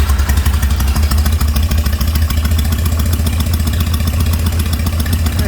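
A handmade chopper motorcycle's engine runs loud and close, fired up and settled into a steady, throbbing idle with a rough, clattering beat for the whole stretch.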